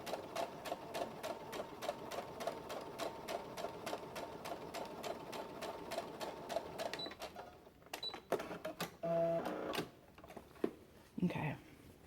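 A home sewing machine basting a Vogue 8825 bodice stitches in a steady, rapid rattle for roughly seven seconds, then stops and gives way to fabric handling and scattered clicks.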